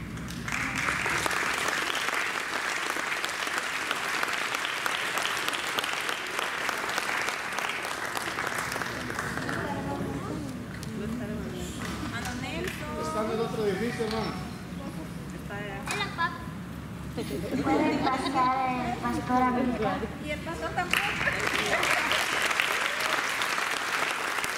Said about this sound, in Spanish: Denle un fuerte aplauso, señor, por los niños